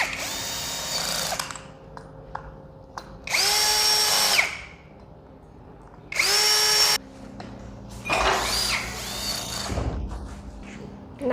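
A power tool drives screws into a connector on a JK200 DIY kit, sounding in four short whirring bursts of about a second each, separated by quiet pauses.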